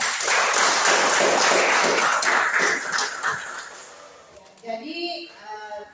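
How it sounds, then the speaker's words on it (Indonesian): Classroom applause for student groups after their presentations, a burst of many hands clapping that fades over a few seconds before a teacher's voice resumes. "Berikan tepuk tangan untuk semua kelompok."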